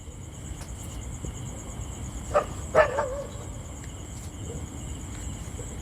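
Dogs bark at night from somewhere nearby but not close, a short burst of a few barks in the middle over a constant chorus of crickets and insects.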